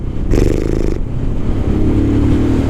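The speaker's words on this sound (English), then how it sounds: "I'm getting a noise from the exhaust, which is fine" A Royal Enfield Scram 411 motorcycle's single-cylinder engine thumps loudly and steadily close by, with a brief rise in exhaust pitch early on.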